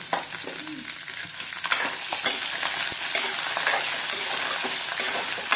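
Garlic frying in oil makes a dense, crackling sizzle that fills the whole stretch, with occasional knocks and scrapes of stirring, near and steady, no speech.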